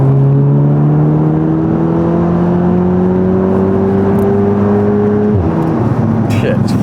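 A 400bhp Audi S3 accelerates hard from inside the cabin, a steady rising engine drone climbing in pitch before dropping sharply at a gear change, loud and continuous.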